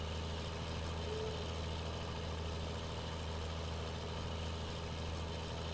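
Tractor engine in Farming Simulator 19 idles with a steady low rumble, continuous and even throughout, no talk over it.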